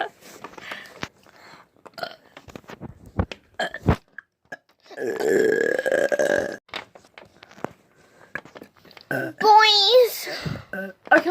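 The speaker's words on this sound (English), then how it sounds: "Listen, I burped and liquid came out." A child's loud, drawn-out wet burp in a home, amid scattered knocks, chatter and other vocal noises.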